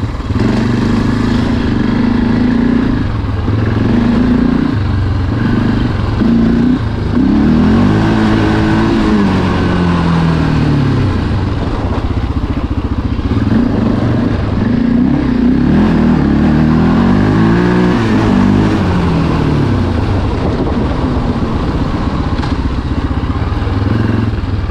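A quad ATV engine accelerates and revs hard, close and loud, its pitch sweeping up and down through gear changes over a steady engine drone for about twenty-five seconds, with no talk.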